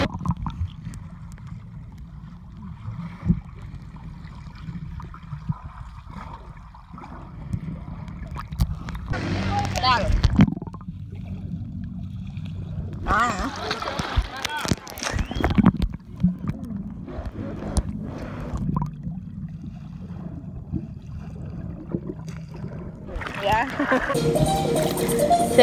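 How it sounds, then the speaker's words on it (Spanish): A stream near Samaná flows with a constant rushing and gurgling of water, with gusts of wind noise on the microphone and bursts of louder splashing. "Señores, este es el arroyo."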